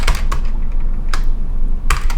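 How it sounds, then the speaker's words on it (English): Typing on a new computer keyboard: loud, close key clicks fall in small uneven clusters with short pauses between them, and no voices are heard. "You can tell my hands are still just a little bit getting into tune with this keyboard."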